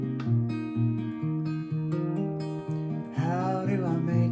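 Acoustic guitar plays a song's verse alone, a steady picked pattern of sustained chords with a brighter strummed flourish near the end.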